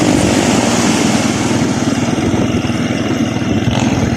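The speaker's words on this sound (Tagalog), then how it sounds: "tulad ng motor mga guys, napakaingay" A loud, steady motorcycle engine running close by on a boulevard in Lingayen, Pangasinan, droning continuously with a rough, throbbing rumble and no voices over it.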